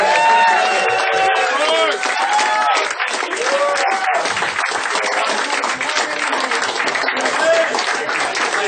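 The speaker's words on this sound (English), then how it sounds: "One more round of applause for Mark Rogers" Crowd at a comedy show applauding comedian Mark Rogers, loud continuous clapping mixed with cheers and whoops that carries on for nearly nine seconds.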